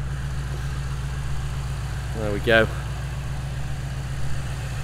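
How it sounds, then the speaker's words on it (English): A 2017 Mercedes C63 AMG S with its 4-litre bi-turbo V8 idling, a steady low, even rumble heard up close, with a brief spoken remark partway through. "show you that big, powerful 4-litre V8 bi-turbo engine, which is an absolute work of art"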